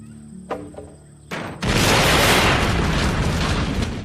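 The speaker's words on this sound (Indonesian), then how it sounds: "bom itu mendarat tepat di sebuah rumah yang membuat rumah tersebut meledak" A few faint clicks, then a sudden heavy blast as a bomb lands on a house, swelling into a loud, rumbling roar that slowly fades.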